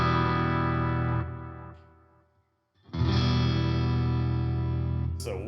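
Strummed guitar through a piezo pickup, giving a crisp acoustic-like clarity with an electric guitar: a loud ringing chord fades to silence, then a new strum rings out bright and full, ending on a sharp scrape.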